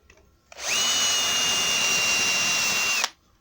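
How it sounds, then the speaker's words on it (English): A power drill with a centre drill bit whines steadily at high speed for a few seconds, boring into wood for cupboard hinge screws, starting and stopping abruptly, close and loud with no talking. "And I've got this centre drill. Set it spinning before you press into the wood."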